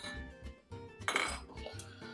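A spoon clinks and scrapes against a pot while tarhana soup with garlic is stirred, with soft rhythmic knocks and a brighter clatter midway, close and without talk.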